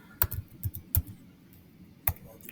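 A computer keyboard is typed on in a few quick separate keystrokes, sharp close clicks spaced irregularly with a short pause before a final tap, fairly quiet.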